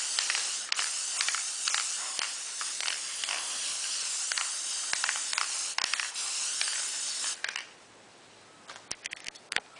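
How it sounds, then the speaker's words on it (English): Spray adhesive hisses in a steady, close stream onto the back of a tile sheet, with small clicks from the nozzle, then it stops and only faint handling taps remain. "Apply your spray adhesive directly to the back of your tile sheet."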